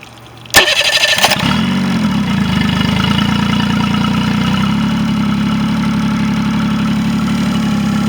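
A Mercury 25 hp outboard motor with a fuel leak behind its VST tank cranks briefly, catches, and settles into a loud, steady close-up idle that runs on alone with an even, throbbing rumble.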